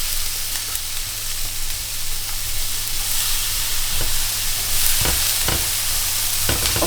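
Meat browns in a very hot frying pan, giving a steady, loud sizzling hiss throughout, with a few soft scrapes or clinks from stirring and no talk.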